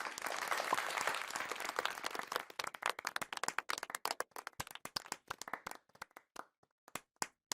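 Clapping on a video call at a tenth-anniversary memorial gathering: dense, loud applause for about two seconds, thinning into scattered, uneven individual claps that patter on and fade toward the end.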